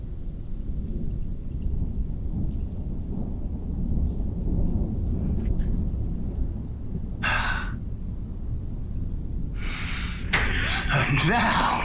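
A thunderstorm sound effect plays in a stage performance of Chekhov's Swansong, with a low continuous rumble of thunder and rain and a couple of brighter cracks near the end, all under a theatrical spoken delivery.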